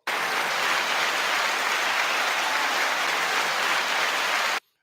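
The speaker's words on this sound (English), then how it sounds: "I'm going to give this 8-second applause." Steady burst of dense applause, uniform and loud throughout, with no voices over it, ending abruptly after nearly five seconds.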